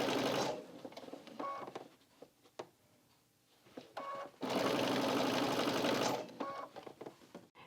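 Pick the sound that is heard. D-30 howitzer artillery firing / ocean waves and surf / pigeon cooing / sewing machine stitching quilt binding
sewing machine stitching quilt binding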